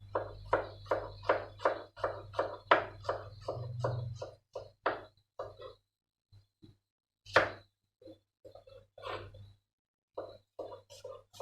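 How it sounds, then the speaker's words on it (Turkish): A knife chops onion on a cutting board in a quick, even rhythm, then slows to scattered single chops with short pauses in between. "Soğanımı e, piyazlık doğrayacağım"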